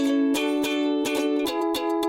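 A guitar plays in a cartoon ear-test quiz, a sustained tone struck again with crisp, evenly spaced plucks, loud and alone.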